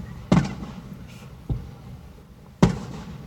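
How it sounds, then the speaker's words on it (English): Christmas-coloured fireworks explode during a 4th of July display, three separate sharp booms spaced about a second apart, moderately distant and echoing over low background noise. "Christmas color fireworks."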